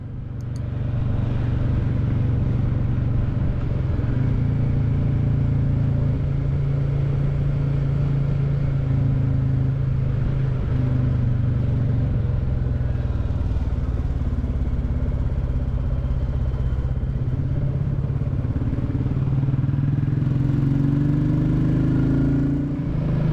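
A Royal Enfield Classic 350 motorcycle ridden on a country road near Duns, with a steady, loud single-cylinder engine drone and wind rumble whose pitch rises and falls through gear changes, continuous and without speech.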